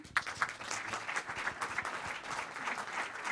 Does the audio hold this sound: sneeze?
no